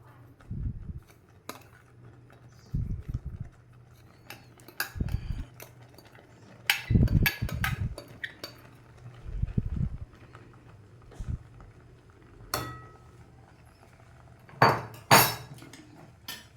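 Rolling pin knocking and scraping against a pot while stirring flour into boiling water, a series of irregular dull clunks and clinks in short bursts, close up with quiet gaps between.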